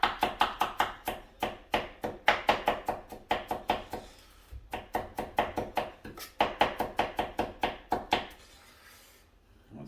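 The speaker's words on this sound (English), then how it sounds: "let's get these onions all. You gotta get these as fine as we possibly can." Onions being chopped finely with a knife on a board in rapid bursts of crisp close taps, a few brief pauses between runs and the rhythm slowing near the end.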